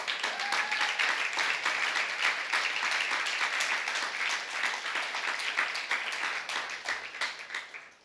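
Audience applause fills a sermon hall, a dense, steady wash of clapping that holds at an even level for about eight seconds before tapering slightly at the end, with no talk over it.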